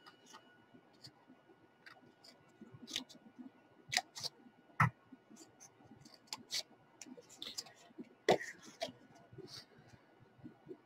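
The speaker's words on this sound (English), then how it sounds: "This is best done with a pair of scissors." Sparse, quiet snipping clicks scattered irregularly, like scissors cutting paper, with faint low murmuring in the background.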